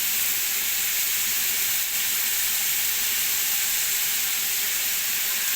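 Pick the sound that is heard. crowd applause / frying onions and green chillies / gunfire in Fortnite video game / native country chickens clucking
frying onions and green chillies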